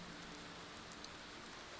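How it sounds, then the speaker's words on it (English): Rain in the video game Skyrim falls as a steady, even hiss of dense drops with no breaks. "Oh, it's raining."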